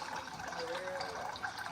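Water runs into a pot being filled for boiling hot dogs, a steady, fairly soft pouring wash that continues without pause and without talk.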